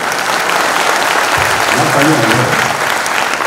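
Steady audience applause fills the whole stretch as a dense, even wash of clapping, with a voice speaking over it partway through.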